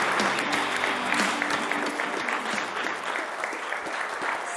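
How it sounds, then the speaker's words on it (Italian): A crowd applauds steadily and loudly for a few seconds in an Italian football club's locker-room gathering, with dense continuous clapping and no speech over it. "Facciamo l'applauso a Christian e a Luca."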